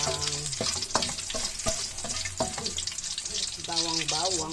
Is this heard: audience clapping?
no